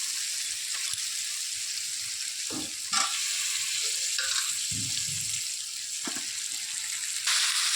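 Chicken pieces fry with ground chili and spices in a pan, giving a continuous sizzle with occasional stirring scrapes and clinks.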